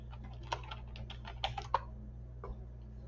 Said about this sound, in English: Then I'm going to go and type in square.